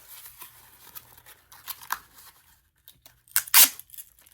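Tape is pulled off a roll and torn to secure a cardboard wrap around a breakable item: scattered small crinkles and rips, then a loud sharp tearing strip near the end, no voices.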